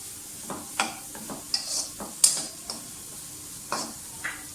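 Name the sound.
carrots frying in a pan for egg fried rice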